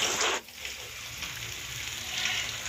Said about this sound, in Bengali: তেলেতে আলু ভাজা হচ্ছে